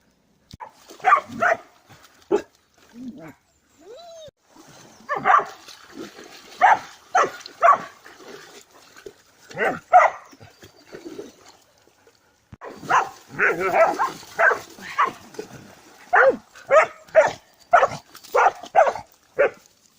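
Dogs bark repeatedly in short bursts by a river, a couple of animals trading loud woofs with brief pauses and a whine between volleys.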